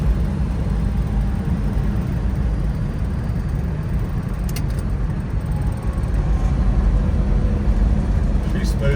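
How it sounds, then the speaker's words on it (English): A 1968 Shelby GT350 convertible with a 4-speed cruising at speed, its engine droning steadily under heavy wind and road rush, with a slight lift in engine noise near the end. "Get a couple downshifts for you."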